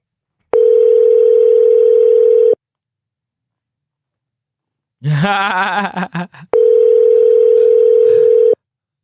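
A telephone dial tone hums steadily while someone places a phone call: two identical sustained stretches of tone separated by a pause and a short burst of mixed electronic tones, with no talking.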